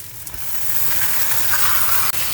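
Five tomatoes are frying with golden onions in a pan, giving a loud, steady close-up sizzle that carries on unbroken with no talk.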